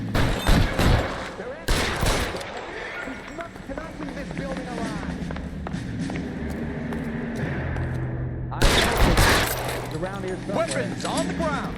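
Gunfire in the L.A. Noire video game: two sharp bursts of shots open the scene, a lull with game noise and voices follows, then a loud renewed volley near the end, all close and mixed with speech.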